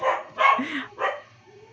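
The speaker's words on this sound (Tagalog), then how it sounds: "Pasensyahan niyo na kung may tumatawal na aso." Dog barking nearby, three short sharp barks in quick succession with a faint whine between them, heard alone against a quiet background.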